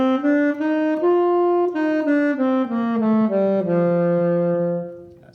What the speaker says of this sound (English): That 7th note on the saxophone, I played a C natural.